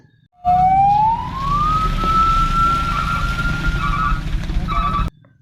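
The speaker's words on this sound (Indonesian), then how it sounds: "Ini truk pemadam kebakaran." A loud siren rises steadily in pitch and then holds a long sustained wail, over a constant low engine rumble.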